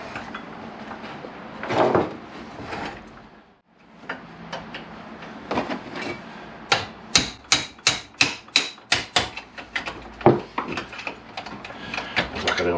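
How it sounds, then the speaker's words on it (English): Mallet whacking a mini dirtbike wheel spindle loose during a restoration, a run of about a dozen loud, sharp knocks in a fairly steady rhythm after some softer handling noises. "I'll go get a mallet and I'll give this a good whack out"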